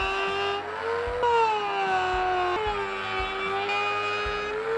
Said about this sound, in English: I'm now going to widen these out slightly further using a Dremel